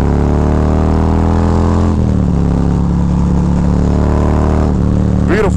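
A Harley-Davidson Road Glide V-twin fitted with a Feuling 465 Reaper cam roars steadily under load at close range and drops a gear partway through with a brief dip in pitch. Loud, constant engine drone with wind rush and no talk.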